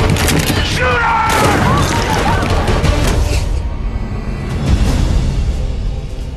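A film action scene with a dense burst of gunfire, loud booming shots and cracks piling into a heavy rumbling barrage that thins out toward the end, with vocal sounds mixed in early on.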